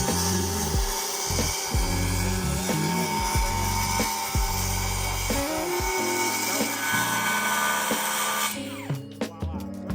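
Wood being cut with a handsaw on a sawhorse outdoors in snowy weather, with steady, loud back-and-forth rasping strokes close by for most of the stretch, ending in a few lighter scrapes.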